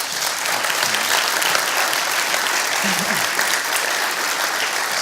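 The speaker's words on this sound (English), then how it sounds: "can we have a round of applause for Dupsy, please?" Sustained audience applause after a speaker's talk at an event, a dense, steady wash of many hands clapping throughout without a break.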